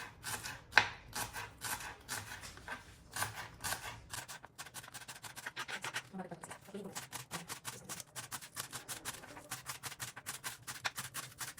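Rapid knife chopping of onion leaves and vegetables for zucchini carrot fritters, a steady run of sharp close taps on a cutting board, with brief pauses and faint talk in the background.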